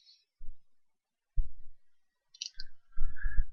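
Computer mouse clicks sound in short bursts at a desk while a WordPress page is being edited, several soft separate clicks spaced through otherwise quiet audio.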